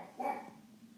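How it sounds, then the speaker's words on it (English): A single short, faint dog bark or yelp from a pet dog indoors, brief and somewhat distant. "Sorry about my dog, I know."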